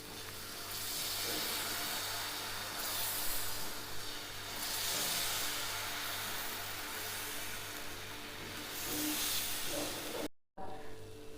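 Dosa batter sizzling on a hot pan, a steady broad hiss that swells and eases in waves over several seconds, fairly faint, with a brief dropout near the end.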